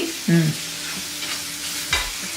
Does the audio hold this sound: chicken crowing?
no